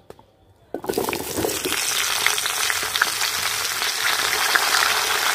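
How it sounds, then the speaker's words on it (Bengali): Bottle gourd drops into hot oil left from frying fish: near silence first, then a sudden loud burst of sizzling that holds as a dense, steady crackle with occasional stirring. "মাছ ভাজার তেলে লাউটা ভেজে নেব।"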